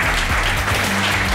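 An audience at a live entertainment event applauding, a dense steady wash of loud clapping throughout.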